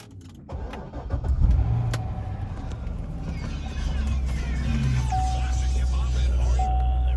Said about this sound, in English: So this car is push to start.